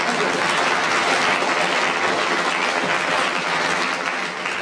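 A studio audience at a 1960s Ken Dodd comedy show breaks into loud, sustained applause and cheering, a dense wall of clapping that holds steady for several seconds.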